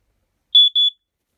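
A Family Gard 83r smoke alarm gives two sharp, piercing high-pitched test beeps in quick succession, loud and close, followed by silence.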